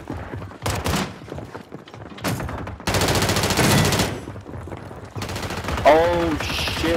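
Bursts of rapid gunfire in Call of Duty, loud repeated volleys in several separate bursts, with a voice talking in between.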